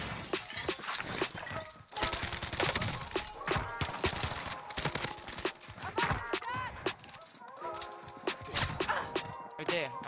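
Rapid bursts of Uzi submachine gun fire in Warzone, mixed with sharp shattering and clinking impacts, loud and choppy with brief gaps between volleys.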